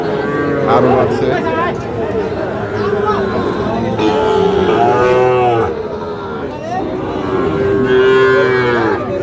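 Sahiwal calves lowing repeatedly at a busy Bangladeshi cattle market, their loud moos rising and falling over a constant hubbub of crowd chatter and bargaining voices.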